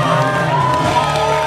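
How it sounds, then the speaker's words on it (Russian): Fans cheer loudly for contestants at a pre-conscription youth competition in Anapa. The crowd noise is dense and steady, with shouts and whoops over a constant roar. "Болельщики изо всех сил поддерживали своих конкурсантов."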